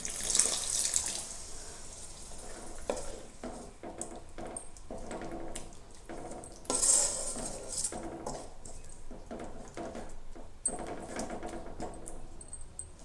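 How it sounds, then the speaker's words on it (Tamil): Half a tumbler of water pours and splashes steadily into a pan of egg curry gravy, with a broad rushing hiss and small clanks of cookware, no talking. "ஒரு அரை டம்ளர் தண்ணி ஊற்றிக்கலாங்க"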